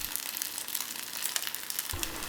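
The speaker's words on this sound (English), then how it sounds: "Cook it until you start to hear the sizzling." Steady, crackling sizzle of rice cooking in a hot pot, a continuous bright hiss with a low thump near the end.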